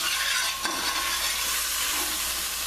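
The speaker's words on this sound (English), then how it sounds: "Stir this up good." Chicken and vegetables frying in a pan for a couscous dish, a steady close sizzle and hiss with a brief scrape of stirring, no voices.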